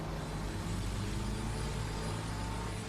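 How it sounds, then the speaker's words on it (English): A truck's heavy engine rumbles steadily and loudly as it aggressively tails a car on the road during a horror-film chase scene, a dense unbroken drone with no talk. "The truck starts tailing Trish and Derry aggressively, almost forcing their car off the road."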